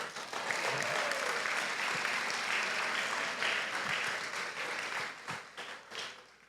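A church congregation breaks into loud, sustained applause during a sermon. The clapping stays dense for several seconds, then thins into scattered individual claps toward the end.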